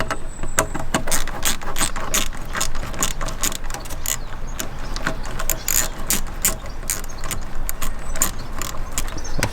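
A ratchet clicks rapidly and continuously up close while tightening the fittings of a vacuum pipe kit on a Mk2 Ford Focus ST, a dense metallic ratcheting that runs steadily throughout.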